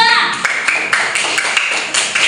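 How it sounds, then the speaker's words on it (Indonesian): Classmates clap for group 2 in a primary classroom, a dense patter of many hands at close range lasting a couple of seconds, with voices murmuring underneath. "Tepuk tangan untuk kelompok 2"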